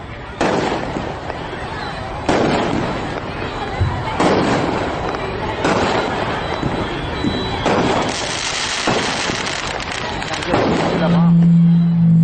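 Firecrackers bursting during a fireworks show in Chennai, a series of loud sharp bangs and crackling bursts spaced every second or two over a continuous roar of smaller pops, with a steady tone rising near the end.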